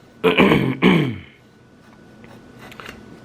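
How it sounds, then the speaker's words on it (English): Two quick, rough throat clears close to the mic, then quiet. "I had to clear my throat"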